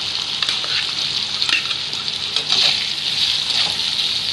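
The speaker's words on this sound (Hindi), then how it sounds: "और थोड़ा सा इस पनीर को भुनेंगे" Peas and paneer frying in a pan, a loud, continuous close sizzle with gentle swells and small crackles and no talking.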